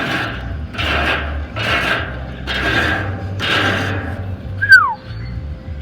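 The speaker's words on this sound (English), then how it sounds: "So we're gonna get the scraper in here, give you a close-up." A wooden grill scraper rasps back and forth across a hot grill grate in five steady, evenly spaced strokes, close and fairly loud, followed by a brief squeak.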